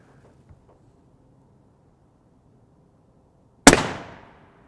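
A single sharp rifle shot firing a Hirtenberger M993 armor-piercing round, loud and close, with a fast decaying tail after a quiet lead-in; no talking.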